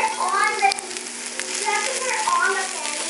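Lima beans masala frying in a pan with garam masala powder, a steady soft sizzle running throughout, with faint voices heard briefly underneath.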